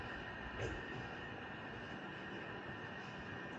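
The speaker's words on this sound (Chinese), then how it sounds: "这就是 BART" A BART commuter train in San Francisco rumbles steadily throughout, a continuous low rolling drone at moderate distance with no voices.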